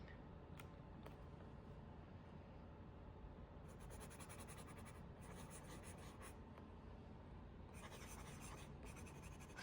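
Medium-nib fountain pen writing on paper, a faint continuous scratchy rub with brief bursts of crisper strokes, heard alone and close against a steady low background hum.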